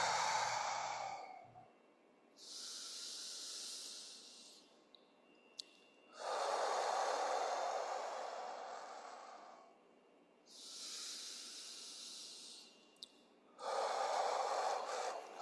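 Slow, deep breathing during a mobility exercise: four long, audible breath cycles, each a drawn-out hissing inhale or exhale with short pauses between. The breaths sound close and fairly loud, with no talking.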